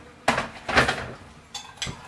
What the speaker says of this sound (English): I'm just going to stir it really well